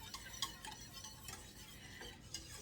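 A whisk keeps coconut cream filling moving in a saucepan on the stove, giving soft, steady scraping and stirring with faint light clinks, close and quiet, with no talking.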